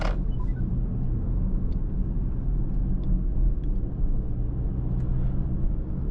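A 2025 Mercedes-AMG GLE 53 Coupe drives through city streets, heard from inside the cabin as a steady low engine and road rumble with a few faint ticks, and no talking.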